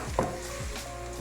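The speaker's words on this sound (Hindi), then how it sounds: "इन सारी सब्जियों को एक दफ़ा अच्छी तरह मिक्स कर लेना ऑयल में।" Chopped vegetables, green chili and cabbage, sizzle and are stirred in hot oil in a pan, a steady close frying hiss with brief scrapes of the spoon, no voices.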